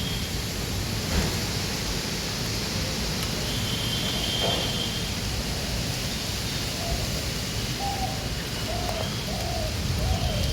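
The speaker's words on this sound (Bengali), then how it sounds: "বৃষ্টির ফোঁটা পড়া শুরু হয়ে গেছে" A steady, even hiss of morning rain falling on a garden fills the scene, with a bird cooing softly in the background toward the end.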